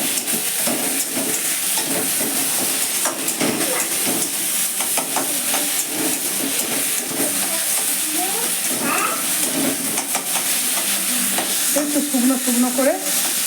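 Lote fish mashed with potato frying in a pan, a loud continuous sizzle and hiss with constant stirring and scraping throughout, close and busy.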